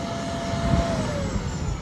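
John Deere S670 combine harvester engine in a corn field, a steady loud roar with a high whine slowly sliding downward as the revs drop, brief and close, no voices.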